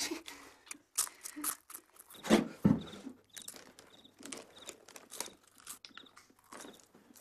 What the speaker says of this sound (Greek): Εσύ μασουλάς.